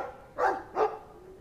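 Two quick, close dog barks from a dog in the game Dragon Age 2, spaced evenly a moment apart with no one talking.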